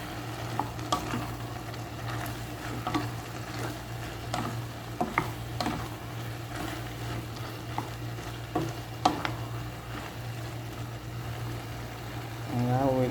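Macaroni for baked mac and cheese is stirred in a pan, giving a steady soft sizzle with repeated light taps and scrapes of a utensil, and a low steady hum underneath.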